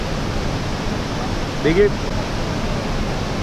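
Waterfall near Rishikesh roaring as a steady, loud broadband rush of falling water, close by and unbroken, with a brief spoken word over it.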